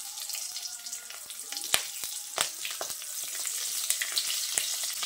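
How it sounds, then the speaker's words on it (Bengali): Onions and capsicum fry in oil over a high gas flame, giving a busy crackling sizzle with sharp pops and spatters close by, and no one speaking. "এবার গ্যাসের ফ্লেমটাকে হাইতে করে পেঁয়াজ আর ক্যাপসিকামটাকে ভেজে নিচ্ছি।"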